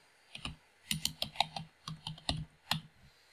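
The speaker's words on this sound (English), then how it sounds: "And I can just type it." Keystrokes on a computer keyboard while a SQL query filtering for North Carolina is entered, a quick irregular run of close, crisp clicks in several bursts, no talking.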